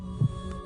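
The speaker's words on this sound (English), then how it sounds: "His heartbeat fired back up." A single deep, thudding heartbeat pulse rises over a steady low hum, brief and close, as a stopped heart restarts after a third defibrillator shock.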